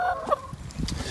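Suburban backyard chickens cluck close by, a few short throaty calls followed by softer low clucks and scratchy movement, fairly quiet overall.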